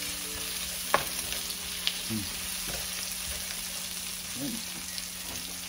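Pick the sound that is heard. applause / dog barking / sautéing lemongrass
sautéing lemongrass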